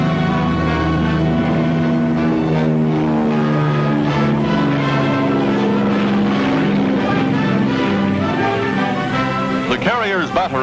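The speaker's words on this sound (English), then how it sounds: "Enemy planes attacking in force." Enemy warplanes attack an aircraft carrier in wartime, with loud, close droning propeller engines holding steady, layered tones that swell and shift, ending in a brief rising whine.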